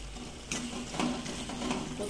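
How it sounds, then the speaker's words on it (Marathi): Coriander is sautéed in spiced oil with cooked-down tomato in a pan for a sprouted moth bean curry, with a soft, steady sizzle and a few quiet stirring scrapes up close. "कोथिंबीर थोडी परतून घेऊ आपण."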